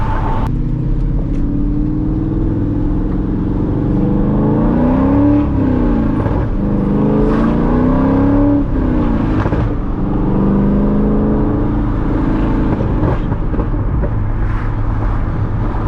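Chevrolet C6 Corvette accelerating hard from the driver's seat, engine note climbing through the revs with rising harmonics and a brief shift, a steady loud roar of engine and road noise throughout, with no talking.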